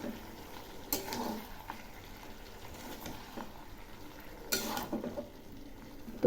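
Beans are stirred in a pan with mustard paste, poppy seed and green chilli paste. Soft scraping and gentle sizzling continue throughout, with a few louder scrapes of the spoon.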